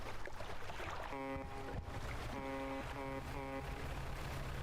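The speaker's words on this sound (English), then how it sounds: "I heard a boat. I heard one." A boat approaching in the fishing game Dredge: a low engine drone under steady wind and water noise, with a rising tonal horn-like layer pulsing in several bursts near the middle and end.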